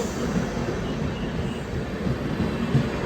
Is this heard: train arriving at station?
yes